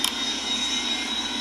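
Steady airplane engine drone from the Real Flight Simulator game by Rortos, a continuous loud hum with a faint high whine and no voices.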